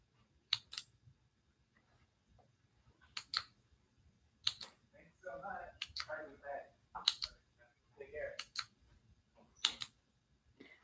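Kaweco Sport Click pen clicking: sharp, bright clicks come in pairs roughly every second and a half, close and crisp, with a person talking quietly between them.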